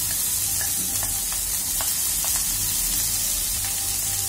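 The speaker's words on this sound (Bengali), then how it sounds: "পেঁয়াজটাকে দেওয়ার পরে এটাকে খুব ভালো করে নাড়তে থাকবে" Chopped onion fries loudly in a pan, its dense unbroken sizzle punctuated by quick scrapes and taps of a spatula stirring it.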